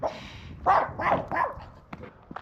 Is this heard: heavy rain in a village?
no